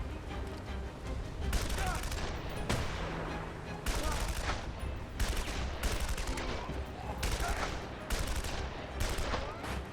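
Repeated bursts of gunfire in Dead to Rights Retribution, loud and close, come in clusters of rapid shots separated by short pauses, with a voice occasionally talking over them.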